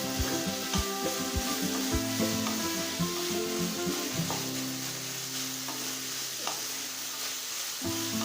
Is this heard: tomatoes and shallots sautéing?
yes